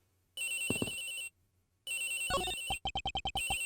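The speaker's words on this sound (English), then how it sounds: "The ringing's coming from somewhere in here, sir." In the Ace Attorney Investigations video game, a cell phone rings inside a locker as bursts of electronic ringtone with a bright melodic run and then a quick series of short pulsing beeps, heard alone without voices.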